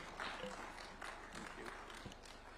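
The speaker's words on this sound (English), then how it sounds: "We can give him a clap as he approaches the stage." An audience at a Kenya-Italy education cooperation event at State House, Nairobi, claps steadily as a guest approaches the stage. The applause is moderately faint and diffuse, heard alone.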